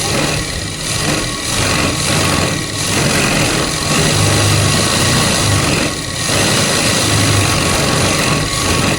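A sewing machine runs a double seam along palazzo pants, its motor whirring in a steady close mechanical drone with brief dips and restarts between stitching runs, no voices.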